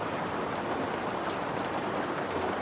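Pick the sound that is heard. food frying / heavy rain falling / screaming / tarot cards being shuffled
heavy rain falling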